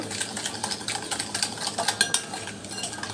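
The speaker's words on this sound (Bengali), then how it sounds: "আর ভালো করে মিক্স করে নেব" Yeast and sugar being briskly stirred together for garlic cheese bread dough, a quick run of rhythmic spoon taps and scrapes against a bowl, close and fairly loud, with no voices.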